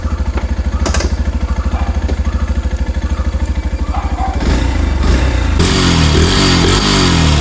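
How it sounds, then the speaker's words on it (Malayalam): A Yamaha FZS Hybrid motorcycle engine idles with a loud, even exhaust putter, then the note thickens into a smoother, fuller idle in the final seconds, heard up close without talk. "ഇതിൻ്റെ എക്സോസ്റ്റ് അതുകൊണ്ട് ഞാൻ കേൾപ്പിച്ചുതരാം ജസ്റ്റ് വൺ ടച്ച് ആണ് കേട്ടോ"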